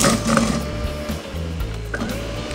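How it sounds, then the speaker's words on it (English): A food processor on turbo grinding coffee beans, vanilla and sugar, a loud, continuous mechanical whir with a rattling, gritty churn throughout the short burst. "I can then crush down some more coffee beans, which I've got here, my vanilla and sugar, and take it down to a lovely smooth consistency"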